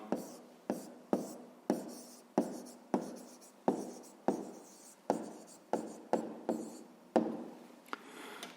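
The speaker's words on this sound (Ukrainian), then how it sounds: "Пишемо Примаченко." A pen writes by hand on paper, producing about a dozen close, rhythmic scratching strokes with brief pauses between them, as an answer is written down.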